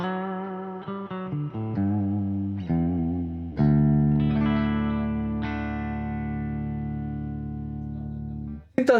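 Electric guitar played through a Peavey Valveking 100 amp on its clean channel with reverb, a slightly uneven riff of short notes and then a long ringing chord that sustains and decays in a reverb tail, loud and close, with no talking.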